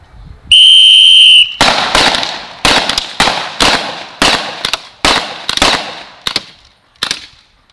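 A whistle blast, then a rapid series of sharp pyrotechnic explosions on a film set, roughly a dozen loud bangs in uneven rhythm, each with a crackling tail.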